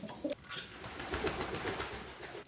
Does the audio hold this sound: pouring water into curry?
no